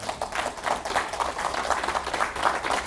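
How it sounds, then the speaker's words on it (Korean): A studio audience at a televised Korean lecture claps steadily for about three seconds, a dense, even patter of many hands with no talk over it. "고생한테 박수 한번 부탁드립니다."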